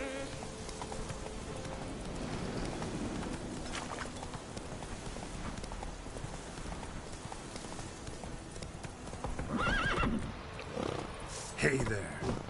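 Horse Roach from The Witcher 3: Wild Hunt gallops in a steady clip-clop rhythm, mixed under game ambience and a voice speaking over it.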